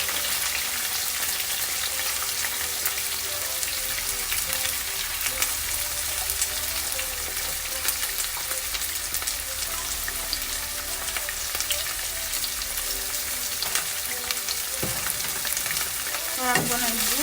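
Green onion and onion sizzle steadily in hot oil in a pan while spinach is being cooked, a dense, close, continuous crackle with occasional stirring clinks and no talk.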